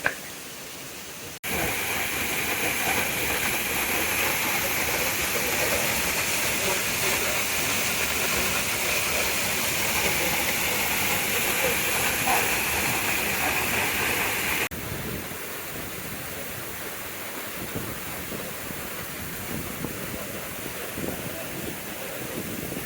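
Steady rushing roar of Amrutha Falls, one of several waterfalls at a single spot, with broadband wind-blown noise throughout and no talk; it drops slightly in level partway through.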